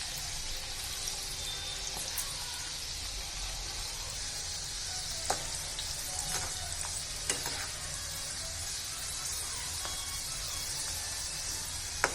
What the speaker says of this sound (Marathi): आता आपण 3 मिनिटं अगोदर मीडियम गॅसवर तळून घेणार आहोत।